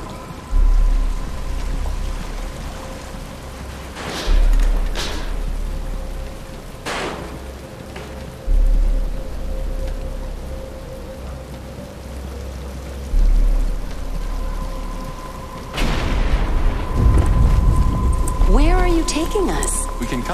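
Steady rain pours in the Batman Arkham Asylum video game, a constant hiss of drops on surfaces with faint distant thunder rumbles, while characters speak over it and music swells toward the end.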